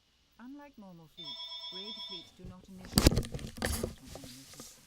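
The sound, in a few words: phone ringing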